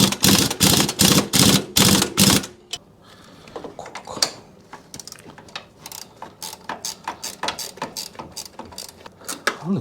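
A hand ratchet works a stiff, hard-to-loosen lock nut on an HKS coilover fitted to an Abarth 595. About two seconds of loud, fast clicking are followed by quieter, uneven ratcheting strokes close by, with no talking.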